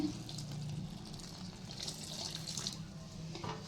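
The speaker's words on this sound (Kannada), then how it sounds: "ಈಗ ಇದಕ್ಕೆ ಸ್ವಲ್ಪನೇ ಬಿಸಿ ನೀರು ಕಾಸ್ಕೊಂಡು ಹಾಕ್ಕೊಳ್ರಿ" Hot water is poured into chakli dough, making a faint, steady trickling splash close up in an otherwise quiet kitchen.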